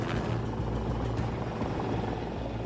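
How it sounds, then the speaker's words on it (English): A sightseeing tour helicopter flying over the Hudson River in New York, its dense rotor and engine roar loud and steady throughout with no voices. "They divert a helicopter, which was taking tourists on a sightseeing tour,"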